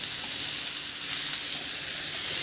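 Potato and bell pepper sabzi sizzles steadily on a tawa, a loud, close, even frying hiss that swells slightly midway as it is stirred, with no voices.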